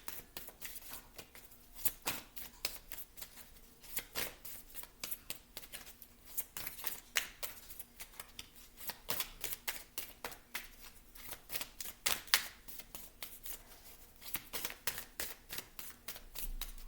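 Tarot cards are shuffled and drawn in a quiet room, making rapid riffling flutters and crisp slaps that repeat in quick bursts throughout, close to the listener and on their own.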